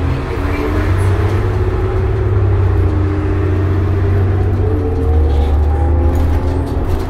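A 2005 New Flyer D40LF transit bus on the road: a steady, loud low engine drone and hum with road whir, running evenly throughout from inside the vehicle.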